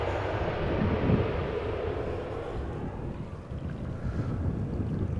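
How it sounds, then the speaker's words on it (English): A KLM Boeing 737 airliner arrives at Amsterdam Schiphol Airport, a broad, loud engine roar rumbling steadily with wind buffeting the microphone, no talking. "Right now, this is the 737 that is on flight radar"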